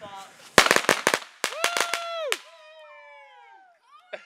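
Rapid sharp firecracker bangs in quick clusters, followed by whistling tones as fireworks shoot up, with voices nearby.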